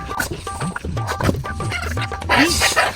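A voice imitates a chicken's clucking in short, throaty bursts, fairly close and loud, amid a lively outdoor comedy scene with other people talking.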